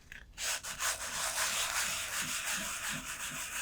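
Steady hand sanding with coarse-grit sandpaper in circular strokes, a continuous close scratchy rasp with soft rhythmic strokes throughout, no voices.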